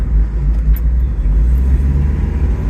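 Car on coilovers driving on the road, heard from inside as a steady low engine and road rumble with faint clicks, continuous and fairly loud with no talk.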